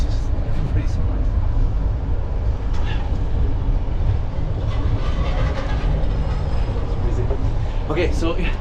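Steady low rumble of a train running on rails, heard from inside a passenger car, continuous and loud with faint clattering throughout and no clear talk over it.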